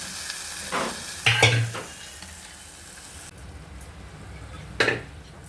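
Boiled taro leaves being stirred in a pan, giving a faint steady sizzle with a few short louder scrapes of the spoon, one at the start and another near the end.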